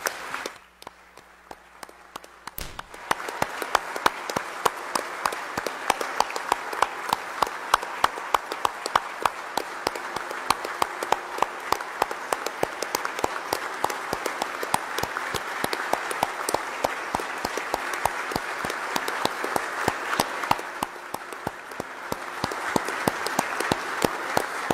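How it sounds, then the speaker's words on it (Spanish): Sustained applause in a national assembly chamber honouring a deceased deputy, starting after a brief quiet moment and continuing as steady, even clapping from many people for over twenty seconds. "Honremos a Jacinto con un aplauso por su vida"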